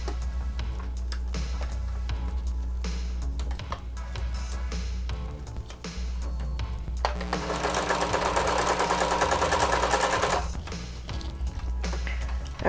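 A sewing machine stitches a harness strap in short bursts separated by pauses, then runs one longer, louder continuous stretch of rapid mechanical chatter, close and clear with no talking.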